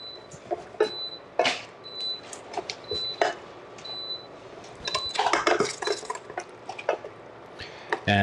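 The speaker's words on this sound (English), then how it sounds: "Give it a stir." A spoon stirs rigatoni pasta in a pot, with wet sloshing and repeated clinks against the pot, close by, broken up by short bright beeps and some faint talk.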